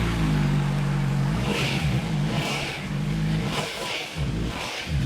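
Voge RR 500 S motorcycle engine running close by, a steady mid-pitched rumble broken by several repeated throttle blips that rise and fall in a regular rhythm.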